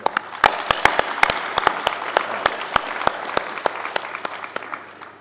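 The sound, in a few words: audience applause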